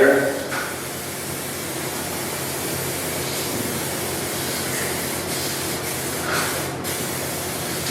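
A steady hiss of aerosol clear coat spray runs through the whole stretch, fairly close and continuous, with brief swells and a couple of short breaks.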